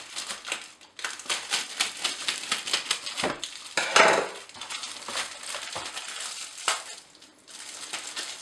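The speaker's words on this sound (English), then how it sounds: "I'm going to get it out of this plastic wrap so we can take a closer look." A cheap 69p supermarket pizza pulled from its plastic wrap gives close, irregular crinkling and crackling bursts, with a louder rustle midway and brief pauses, and no one talking.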